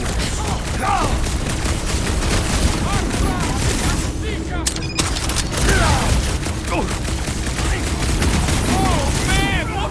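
Rapid turret gunfire from the church's defenses in Marvel's Guardians of the Galaxy crackles in dense bursts amid explosions and whooshing effects, with voices talking over the continuous chaotic battle noise.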